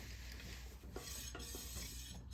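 A brake rubs on a 72V Razor electric dirt bike after a brake bracket install, making a faint, continuous scraping whir with slight rhythmic pulses as the wheel turns.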